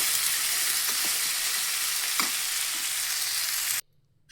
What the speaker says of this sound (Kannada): ಈಗ ಟಮಾಟೆ ಹಣ್ಣು, ಈರುಳ್ಳಿ, ಒಂದು ಕೊಬ್ಬರಿ ಹಾಕಿ ಚೆನ್ನಾಗಿ ಹುರ್ಕೊಬಿಡ್ತೀನಿ ಫ್ರೆಂಡ್.